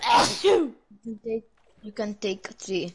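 A single sharp sneeze bursts out close by at the start, followed by people talking.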